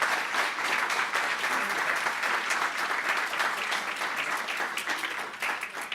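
Applause fills a room at a Westerville Board of Education meeting. The clapping is dense and steady at close range, with a slight dip near the end.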